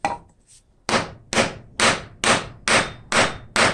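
Sharp, loud hammer blows driving a wooden wedge into a wooden mallet handle, seven strikes in a steady rhythm after a couple of lighter taps, each with a solid crack.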